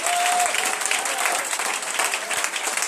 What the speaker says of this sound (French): Est-ce que tu peux l'acclamer encore plus fort?